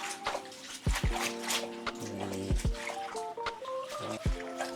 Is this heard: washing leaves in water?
yes